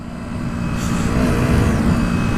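A KTM Duke 125 motorcycle pulls away with a loud, close engine drone that builds steadily, heard alone without talk.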